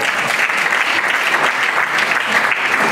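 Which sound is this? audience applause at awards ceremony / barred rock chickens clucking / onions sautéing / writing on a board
audience applause at awards ceremony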